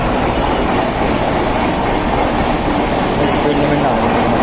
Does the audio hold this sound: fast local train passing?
yes